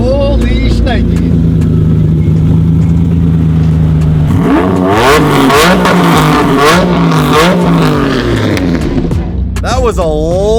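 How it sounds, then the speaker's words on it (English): An old Lamborghini supercar engine idling loudly, then revving hard in rising and falling sweeps with crackles and pops of unburned fuel, very close, and voices talk over it. "That was a lot of unburned fuel. That's what you get with an old supercar."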